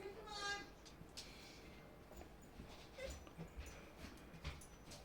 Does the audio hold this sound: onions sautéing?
no